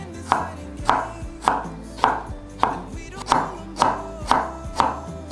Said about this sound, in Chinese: 把薑切細絲